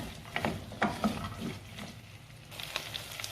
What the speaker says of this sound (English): So I'm also going to give it a quick stir and let this cook for